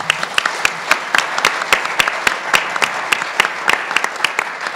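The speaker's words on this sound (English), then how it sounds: "Let's give them a round of applause" A steady round of audience applause for panelists at a media roundtable conference session, dense clapping that holds evenly close by for several seconds.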